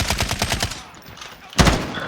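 Rapid automatic gunfire in a first-person shooter video game, a dense burst of repeated shots followed by a pause and then a single louder, close blast.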